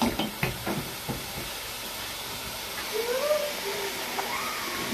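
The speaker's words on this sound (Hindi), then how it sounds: "दो चम्मच हम डालेंगे इसमें लहसुन अदरक का पेस्ट। अभी जो ना इसको अच्छे से हमने ना भून लेना है।" Garlic-ginger paste fries in a pan with a faint, steady sizzling hiss after a few clicks of stirring at the start, while a voice talks quietly over it.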